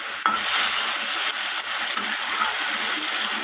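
Water from rinsing a spice bowl pours into a pot of cooking taro stolons in a mustard-poppy seed gravy, giving a steady close hiss and bubbling sizzle with a soft splash near the start, no voices.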